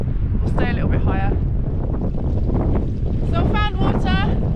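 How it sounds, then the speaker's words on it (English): Wind buffeting across an exposed, boggy upland hillside during a wild camping trip, a loud continuous rush and rumble of gusts against the microphone, with a voice speaking briefly over it. "it's too exposed, windy up here"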